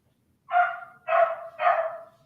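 A dog gives three quick, close barks in a row, evenly spaced, against an otherwise quiet background.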